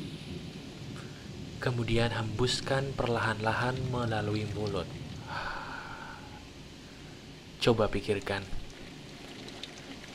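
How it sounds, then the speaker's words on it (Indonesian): Steady rain falls with low rumbles of thunder, a continuous soft background wash that sits under a calm voice speaking slowly in Indonesian. "Coba kamu dengarkan suara rintikan hujan yang ada di video ini."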